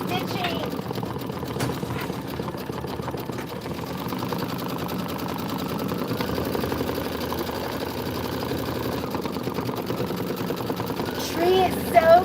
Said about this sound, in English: I was stitching.